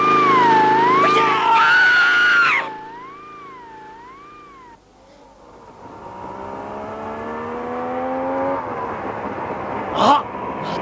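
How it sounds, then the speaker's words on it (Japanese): In a puppet show, a wavering siren wails for a few seconds and then cuts off. A motorcycle engine then rises steadily in pitch and loudness as it approaches and passes, ending with a brief sharp burst. "あ、また来たぜオートバイが"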